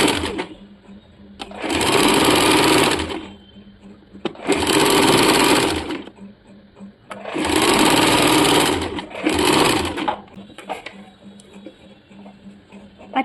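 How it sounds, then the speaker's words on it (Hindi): A sewing machine stitches a folded cotton fabric strip in four loud, sustained runs, each a few seconds long, separated by short quiet pauses. "अभी पट्टी को इस प्रकार सामने की तरफ फोल्ड करके इसे सिलाई कर लेंगे।"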